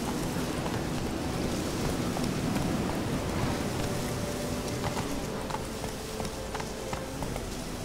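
The horse Roach gallops in The Witcher 3 video game, with dense hoof clip-clop running steadily under a continuous loud wash of wind-like ambience and no pauses.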